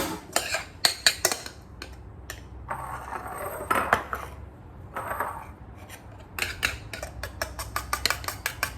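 Metal utensils clink and scrape against a dish while creamy grits are plated, a run of sharp close taps and rubs with a quieter stretch of smearing in the middle.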